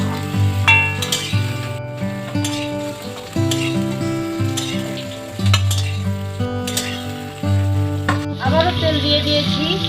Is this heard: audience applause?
no